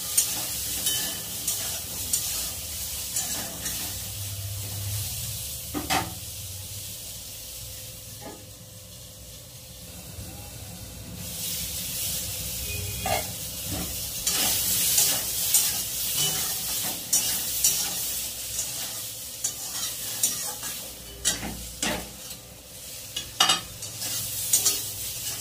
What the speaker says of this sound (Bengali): পটলগুলো একটু লাল লাল করে ভেজে তুলে নেব।